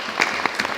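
Brief burst of applause from a conference audience, a short patter of clapping hands lasting under a second, fairly close and moderately loud with no voices over it.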